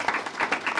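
A small group claps in thanks for Mr. Fields at a school board meeting, a brief patter of hand claps at moderate distance with no talking.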